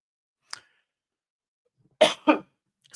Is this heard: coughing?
yes